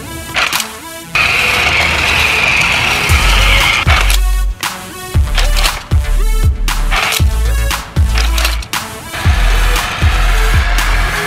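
A Little Tikes RC Dozer Racer toy car drives in bursts, its small motor whirring loudly and close, cutting out and restarting every second or so with knocks and rattles between runs, and no one talking.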